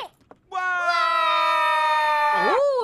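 Cartoon trolls' supporters let out one long, loud sustained scream with a rising harmonic shriek, held for about two seconds before sliding down at the end, following a short quiet lead-in.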